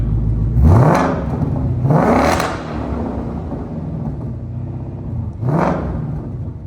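A 2024 Mustang GT with a Stainless Works Legend active exhaust, valves in the second mode, revs up loudly three times, each deep rumbling surge rising then falling back to a close, throaty idle.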